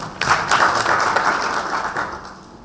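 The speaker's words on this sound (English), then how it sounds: "give them a clap" A crowd applauds at a county public service board strategic plan launch, a burst of indoor clapping that starts sharply and slowly fades.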